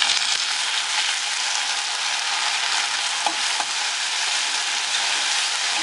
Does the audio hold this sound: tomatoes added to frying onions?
yes